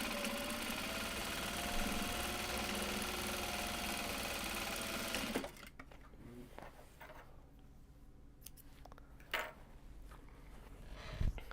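A sewing machine runs steadily on a large fabric box bag, a continuous motorized hum for about five seconds that then cuts off, leaving quiet handling noises and a few soft knocks.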